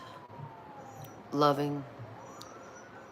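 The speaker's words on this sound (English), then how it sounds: "And sorry for the sirens, everybody." A faint siren wails in the distance while a person speaks briefly over it.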